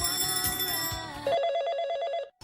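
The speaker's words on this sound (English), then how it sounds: "better pick up the phone" A telephone rings loudly in a dramatized audio story, with bright repeated trilling bell tones continuing for a couple of seconds before cutting off abruptly.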